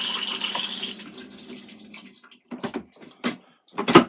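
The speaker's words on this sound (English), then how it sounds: "it's a normal working flush" Toilet in a vehicle flushed using its water pump and fresh-water container: a brief rush of water fading out, followed by several short gurgles and knocks, close and moderately loud.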